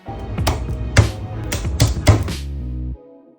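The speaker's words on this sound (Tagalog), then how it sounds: "hiwa tayong sibuyas" A kitchen knife chops onion and garlic on a board in a home kitchen, several sharp, irregular knocks close by, ending abruptly.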